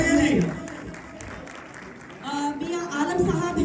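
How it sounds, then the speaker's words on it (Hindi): An audience at a hall welcome gathering applauds in a moderate, continuous wash of clapping that swells, eases and swells again, with a voice on a microphone over parts of it. "उनके लिए जरा भरपूर क्लैप कर दीजिए। तालियां ज्यादा होनी चाहिए जी।"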